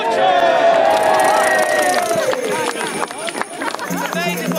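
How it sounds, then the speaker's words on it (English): A crowd cheering and shouting at a wassail celebration in an apple orchard, loud and close, with voices rising in a sustained roar and then scattering into mixed calls. "It's amazing what people cheer at when they've no idea what it is."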